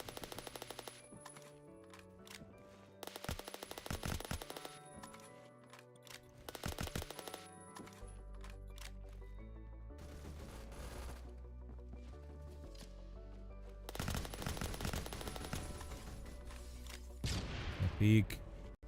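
Gunfire in the Roblox game Phantom Forces: rapid automatic bursts in short repeated volleys, loud and close, with pauses between strings of shots and a voice talking over the action.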